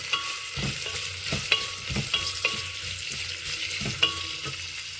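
Onions sautéing in a pan while a utensil repeatedly scrapes and stirs them, giving a steady crackling fry under rhythmic scraping strokes, close and moderately loud, with no talking.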